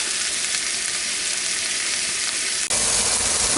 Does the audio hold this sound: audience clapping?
no